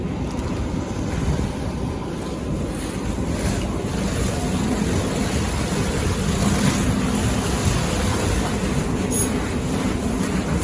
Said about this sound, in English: You can see the volume of water that's introduced by the nozzle on this fire, significantly more than what the sprinkler head did.